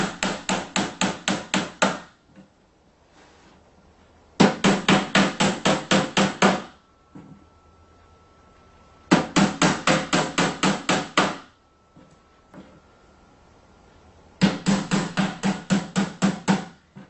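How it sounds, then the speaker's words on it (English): Nails being hammered into the back panel of a wooden cabinet during assembly, four close, loud bursts of rapid, evenly spaced hammer blows separated by pauses with faint handling sounds. "just nail this back panel right into place."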